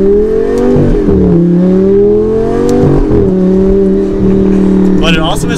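Old-school Lamborghini Gallardo engine held at a steady loud rev, with slight rises and dips in pitch and a brief swell near the end, running continuously and close.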